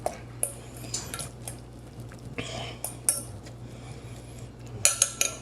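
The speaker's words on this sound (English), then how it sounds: "Next, we're giving it a nice stir." A spoon works through a smoked salmon mixture in a dish, giving soft squishy stirring with scattered clinks of metal against the bowl over a faint steady hum.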